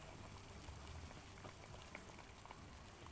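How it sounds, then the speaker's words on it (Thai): Rice porridge simmers in a pot over a charcoal stove, a soft continuous bubbling and gurgling that stays faint and steady throughout, with no voices over it. "ต้มไปอีกสักก่อน"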